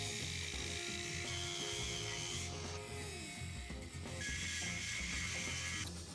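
An angle grinder cuts through a metal tube for a tilting cargo trike frame, a loud continuous high whine and grind whose pitch shifts as the disc bites, with no speech.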